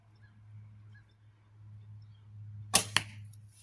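An arrow leaves a bow and strikes a target in two sharp, close cracks about a quarter second apart, loud against a quiet background hum.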